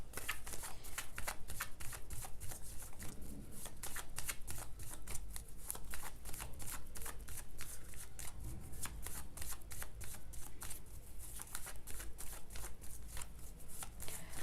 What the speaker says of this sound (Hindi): कार्ड शफलिंग बहुत ही इम्पॉर्टेंट पार्ट है टैरो रीडिंग का, तो इसलिए कार्ड शफल मुझे अच्छे से करना है